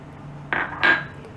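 Baking soda goes into a bowl of cake batter for an eggless banana cake, giving two short metallic spoon taps against the bowl, close and clear in a quiet kitchen.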